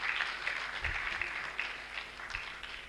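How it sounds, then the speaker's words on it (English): Audience applause at an anniversary and induction ceremony, a steady patter of many hands clapping at moderate distance, continuous throughout with a few louder claps. "Another round of applause for him, please."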